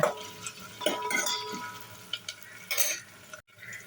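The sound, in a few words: cardamom, cloves, onions and shahjeera frying in a pan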